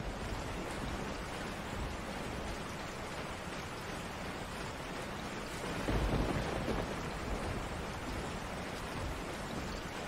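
Steady, dense rainfall hisses in a Resident Evil 4 HD game scene, with a low thunder rumble swelling briefly near the six-second mark before settling back into the constant downpour.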